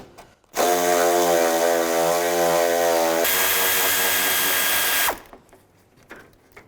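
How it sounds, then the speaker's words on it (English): Power tool with a 10mm socket backing out a bolt on a 2006-2011 Cadillac DTS radiator cooling fan assembly: one loud, close whirring run of about four and a half seconds that shifts pitch midway, then stops abruptly, with no speech. "Use a 10mm socket, take those 2 bolts out."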